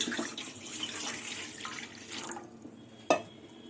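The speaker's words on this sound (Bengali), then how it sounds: "এবার জল দিয়ে দেবো" Water running into a pot set on a lit gas stove, a steady close pour that fades out midway, followed by quiet and a single sharp clink.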